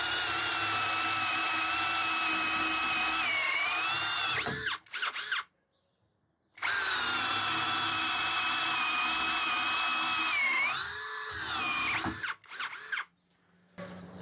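A Hanabi LJ2022 cordless drill with hybrid chuck and 55 Nm torque bores with a 3/4 inch spade bit at speed setting 2, whining loudly in two long runs with pitch shifts under load, separated by a short pause.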